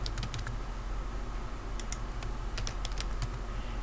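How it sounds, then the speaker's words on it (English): Typing on a computer keyboard while entering a name into a form, a steady run of crisp key clicks with brief pauses, close and clear over a low background hum, no talking. "And then they type in their name."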